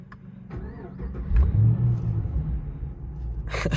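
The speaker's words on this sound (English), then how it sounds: "It sounds just like a Camaro when it starts up." A 2017 Chevy SS, also sold as the Holden Commodore, starts up: starter cranking, then the V8 catches with a deep rumble and a brief rev before settling into a steady idle, close and alone.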